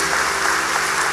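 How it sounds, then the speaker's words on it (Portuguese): Congregation applauding during a church homily, a steady, dense wash of clapping from many hands with no pause, fairly loud and without speech over it. "Vamos aplaudir essa graça."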